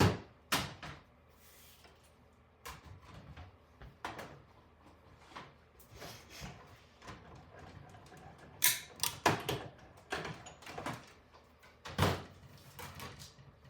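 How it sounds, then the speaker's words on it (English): Cardstock being cranked through a manual embossing machine while making a Stampin' Up! butterfly card, heard as a string of close, quiet mechanical clicks, thumps and rattles spread irregularly across the stretch, with no speech. "So I'm going to run this through the embossing machine."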